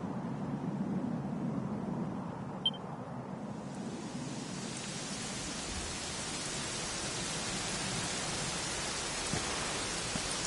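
Steady rain in the video game Dragon Quest XI hisses evenly, a broad wash of falling water that thickens after a few seconds and holds constant, with no voices.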